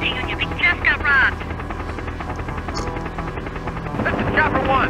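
A police helicopter in a video game chases robbery suspects, its steady rotor thrum droning throughout beneath brief chirping radio-like sounds and voices.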